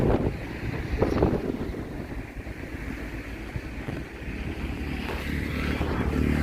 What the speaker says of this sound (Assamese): বহুত বতাহ দিছে